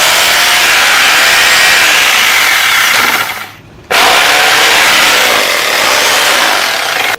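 A repaired Hilti three-function drill machine runs loud and close with a steady high whine, dips briefly to a stop midway, then starts up again and keeps running.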